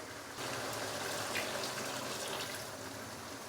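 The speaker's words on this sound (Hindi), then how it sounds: "तो इस टाइम पे आके मैं इसके अंदर हाफ कप से थोड़ा सा कम पानी डालूंगा।" Water, a little under half a cup, is poured into a pan of chicken do pyaza as it cooks. It makes a steady, even rush that lasts about three seconds, with no talking.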